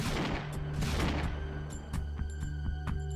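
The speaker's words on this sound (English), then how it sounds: "Oh, look at this cover fire!" Gunfire in the PC shooter game Dead Trailz, Runner Mode, a dense burst of cover fire followed by repeated sharp shots, loud and close.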